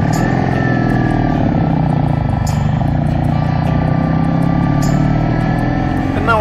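A motorbike riding through the Shropshire Hills in Wales, its engine droning steadily at cruising speed with heavy wind rush and a few clicks, loud and continuous.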